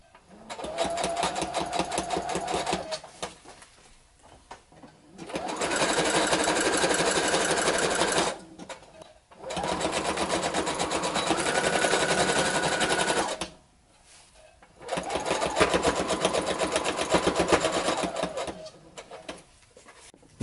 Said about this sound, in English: Now all we do is half inch all the way around. Zigzag stitch.